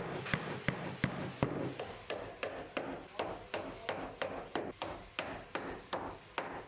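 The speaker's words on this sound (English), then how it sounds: "nailed one clout nail on the shorter piece in line with those spar marks" A clout nail hammered into wood during construction of a pent bike shed, about fifteen sharp, evenly spaced hammer strikes, close and moderately loud.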